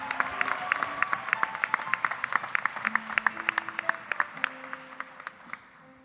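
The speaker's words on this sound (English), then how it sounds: "please give another round of applause to Karen Eigenmann." An audience applauds after a performance at a talent competition event, a crowd clapping steadily with some lighter cheering and faint background voices, gradually thinning out toward the end.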